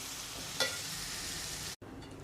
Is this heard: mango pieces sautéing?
yes